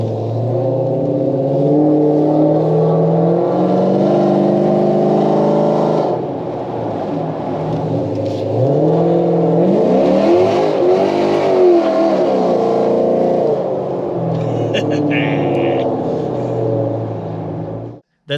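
A Dodge Challenger with a tuned NAG1 automatic transmission accelerates hard, its engine roaring loud and close as it climbs through held-out gears, dipping briefly at each shift before surging again.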